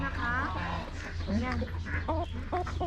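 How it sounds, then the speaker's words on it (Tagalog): Chickens cluck at a farm zoo in Christchurch, New Zealand, a few short nearby clucks and calls heard under people talking. "Sa manok? Manok."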